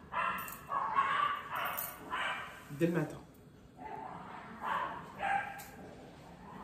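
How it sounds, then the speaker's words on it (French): Dogs bark and yip in short bursts, mixed in beneath someone speaking French at close range. "J'en peux plus de ces chiens."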